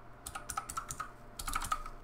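Computer keyboard keys tapped to re-enter a password for a MUD text game, two short runs of crisp, evenly spaced clicks close to the microphone, with a slight pause between runs.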